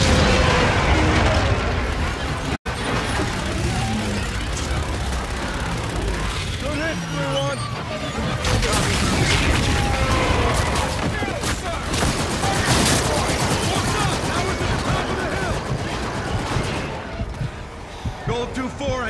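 An aircraft gun run in the video game Call of Duty Infinite Warfare unleashes continuous, loud, rattling gunfire and explosions beneath urgent voices talking over the barrage.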